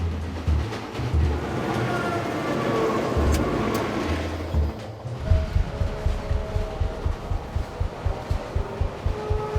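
A maintenance train rumbling along a mountain railway near Narvik, steady low roar giving way to a rhythmic clatter of wheels over track joints, close and continuous.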